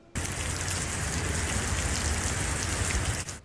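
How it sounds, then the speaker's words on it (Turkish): Heavy downpour in Iskenderun, Hatay, a dense, steady hiss of rain pouring onto surfaces, loud and constant with no voices. "Etkisini hissettiren sağanak, şehir merkezinde su taşkınlarına neden oldu."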